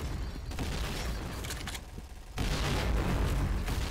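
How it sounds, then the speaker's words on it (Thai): Dense rumbling explosions and gunfire-like blasts in a video game roll continuously, with a sudden louder burst partway through, loud and chaotic with no talk. "เฮ้ยระเบิดเยอะว่ะ"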